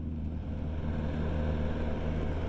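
BMW M1000R Competition motorcycle engine holding steady in second gear, a low continuous drone with steady rumble and no pauses, moderately loud and close.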